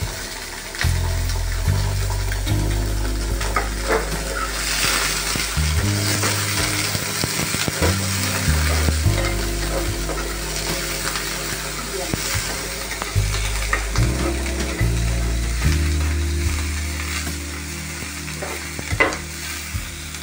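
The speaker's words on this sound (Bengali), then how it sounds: "পেঁয়াজগুলোকে লাল করে ফ্রাই করতে হবে।" Sliced onions frying in hot oil in a home kitchen, a steady loud sizzle broken by repeated bursts of spatula scraping and stirring across the pan throughout.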